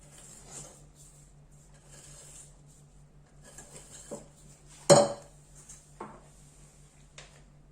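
A utensil stirs cake batter in a bowl, making faint, steady scraping with a few light clinks and one sharper knock against the bowl, close and quiet, with no talking.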